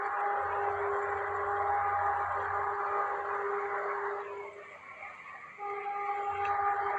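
A train rolls past near Bicutan Public Market, its steady rumble joined by a long, loud two-tone horn that cuts out briefly and then sounds again, close and alone with no talk.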